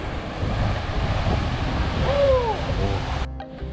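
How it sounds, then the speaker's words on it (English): Massive ocean surf breaking on the shore in Maui gives a loud, continuous wash of roaring water mixed with wind buffeting the microphone, and a brief voice-like squeal briefly rises above it. "These waves are massive."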